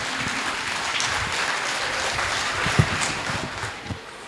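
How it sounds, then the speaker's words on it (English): A school event audience applauds students in a round of applause, a steady wash of clapping at moderate level with a few sharper claps standing out near the end. "So please give them a big round of applause"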